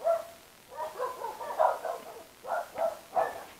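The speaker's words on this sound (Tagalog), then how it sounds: "Ingay na mga aso." Several dogs bark in short, spaced bursts from nearby on a street at night, with about five distinct yaps or woofs at moderate loudness and no talking.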